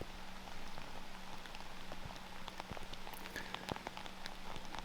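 Steady rain falls across a disc golf course in Estonia during a women's tournament round, a soft, constant hiss with scattered individual drop ticks and no voices.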